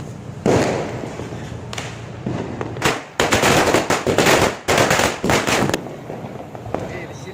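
Diwali firecrackers burst close by in a rapid string of sharp cracks and pops, with several dense crackling volleys and brief pauses between them.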